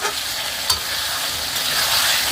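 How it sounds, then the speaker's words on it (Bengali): Meat being sautéed in a pan with ground dried red chillies, a steady close sizzle of frying with a brief scrape of stirring and no talk. "তো এই যে বন্ধুরা মাংসটা কষিয়ে নিচ্ছি"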